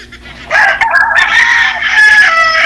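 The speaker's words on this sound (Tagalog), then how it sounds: "Maraming manok." Fighting roosters crow loudly up close, overlapping calls stretching across the whole moment, with no voices.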